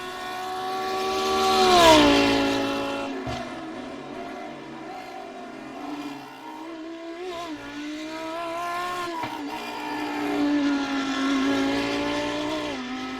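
GT3 race cars, Ferrari and Lamborghini Huracan, racing at Imola: a loud engine note rising and falling through gearchanges, a close pass peaking early, then continuous revving of several cars with no talk.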